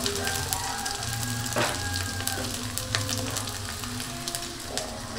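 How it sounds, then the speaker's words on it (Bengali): Potatoes fry in hot oil with a steady, close, dense sizzle and crackle, plus occasional clinks of stirring, with no talk. "আলুগুলো ভাজবো।"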